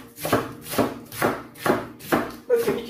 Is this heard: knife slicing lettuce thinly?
yes